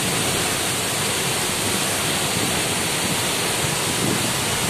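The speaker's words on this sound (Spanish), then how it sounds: "La caída del agua." Waterfall of the Pita river at Sangolquí, a steady, dense roar of falling water that holds unbroken throughout, loud and close with no voices.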